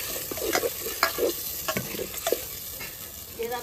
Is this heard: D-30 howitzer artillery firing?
no